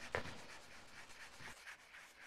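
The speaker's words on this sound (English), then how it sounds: "I've got a garbage bag underneath me to catch all the dust that I'm sanding off" Sandpaper rubbing over primer coats on a high power model rocket, a steady scratchy rasp repeated in short back-and-forth strokes, close and fairly quiet.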